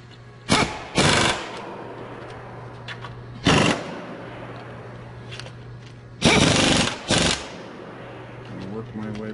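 Bolts on an engine oil pan being run down with a power tool in short bursts: four loud buzzing rattles, each about half a second, over a steady low hum in a workshop.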